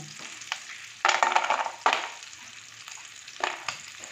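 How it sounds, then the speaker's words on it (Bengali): Fish roe and lentil dumplings frying in mustard oil in a pan give a close, crackling sizzle with a few loud bursts as pieces are added or turned, and no talking. "এই যে মাছের ডিমটা ভাজা হচ্ছে, এবার এক পাশে দিয়ে দেবো কয়েকটা বড়ি। বড়িটাকে ভেজে নেব।"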